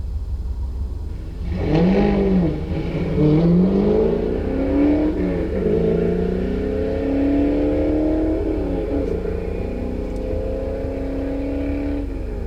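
A 2015 Subaru WRX Stage 2 accelerates hard on a quarter-mile run against a supercharged Shelby GT500 Mustang, its engine climbing through several rising revving pulls with gear shifts between them, loud and close from inside the car.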